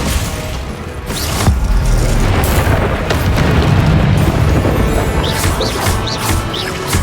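Confringo blasting spells erupting in Hogwarts Legacy combat, a loud continuous barrage of booming explosions and crashes layered over one another, with sparkly magical whooshes near the end.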